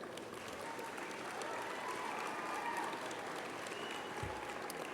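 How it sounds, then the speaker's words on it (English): Sustained applause from a graduating class at a university spring convocation ceremony fills a large hall, a dense, even clatter of many hands clapping continuously throughout. "reciprocate by applauding your family, friends, faculty, and staff,"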